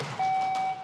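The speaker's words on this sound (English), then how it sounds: "I thought the buzzer working would be more exciting." A quiz competition buzzer at a national middle school math contest gives one steady electronic tone lasting about half a second, loud and clear against a quiet room.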